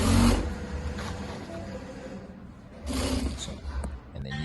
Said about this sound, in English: keep the needle in the fabric, lift the press foot up, and keep sewing